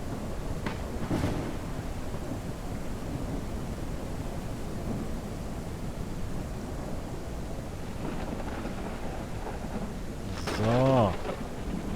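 Steady rain hisses in a ranch simulation game, with low thunder rolling underneath throughout and a brief louder swell near the end; a person talks faintly over it.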